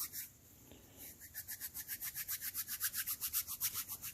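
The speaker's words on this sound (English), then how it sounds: "I'm just rubbing my hands together here." A person rubbing their hands together briskly, close up, as a fast even rhythm of dry swishing strokes that starts after a brief pause and keeps steady, without speech.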